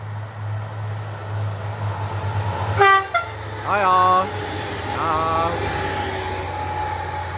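A passing train on a Czech rail line sounds a few loud, sharp horn blasts midway, following the steady rumble of the wagons rolling by.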